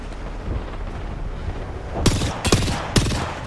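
Gunfire in an Apex Legends match, with three distinct sharp shots spaced about half a second apart, cutting through steady, dense background game noise.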